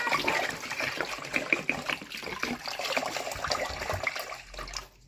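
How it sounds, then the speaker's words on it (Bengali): Water is poured into a bowl of parboiled rice set to soak overnight, giving a steady splashing, gurgling pour of moderate level that trails off at the end. "এই জল দিয়ে দিলাম, এবার এটাকে আমি সারা রাতের জন্য রেখে দেবো"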